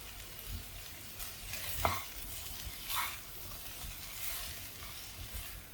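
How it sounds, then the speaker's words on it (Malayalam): Cauliflower being stirred in a pan with chilli powder and salt, wilting over moderate heat: a faint, steady hiss broken by a few soft scrapes and one sharper knock. "ഫ്ലവർ ഒന്ന് ഏകദേശം വാടി വരുന്നവരെ നമുക്കൊന്ന് ഇളക്കി കൊടുക്കാം."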